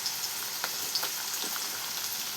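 Spices and chopped green chilies temper in hot oil for a chana dal curry, making a soft, continuous sizzle dotted with small crackling pops. No voices are heard.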